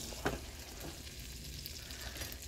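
Shrimp cooking in butter in a pan, a steady soft sizzle and crackle throughout with a brief stirring scrape near the start, fairly quiet and close.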